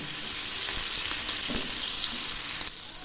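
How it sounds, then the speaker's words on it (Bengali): Prawns hit hot oil in a pan and sizzle loudly and continuously up close, with a stirring bump midway before the crackle suddenly drops to a quieter hiss. "তেল গরম হয়ে গেছে, এখন আমি চিংড়িগুলো ছেড়ে দিচ্ছি।"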